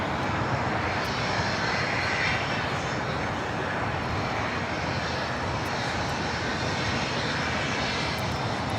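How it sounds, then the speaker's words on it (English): A DHL Boeing 777 freighter comes in to land on runway 25 left at LAX, a loud, sustained jet engine roar filling the whole stretch, steady and close with a slight swell near the start and no talk. "DHL 777 freighter about to touch down at 25 left."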